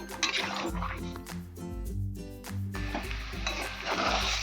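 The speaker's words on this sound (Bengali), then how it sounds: "ভালো করে মশলাটাকে কষাবো।" Spice paste sautéing in a pan for green aloo dum, a soft, wet bubbling sizzle with squishy stirring and a brief lull midway.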